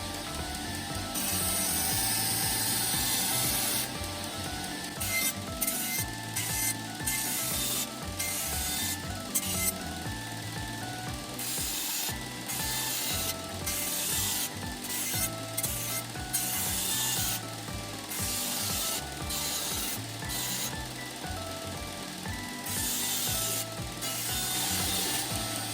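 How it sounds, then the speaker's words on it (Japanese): Continuous rhythmic abrasive rubbing of 240-grit abrasive on an AEB-L steel kitchen knife blade, a gritty back-and-forth rasp repeating steadily and close up, with no voices. "240番で120番の傷を消します"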